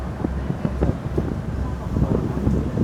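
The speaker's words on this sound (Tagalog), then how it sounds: "ang lakas ng hangin" Strong wind buffets the microphone in a constant low roar with uneven gusts, and a muffled voice sits faintly underneath.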